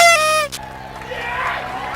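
A bright tone sweeps briefly, then a hollow, swirling texture rises and falls as frequencies shift in and out.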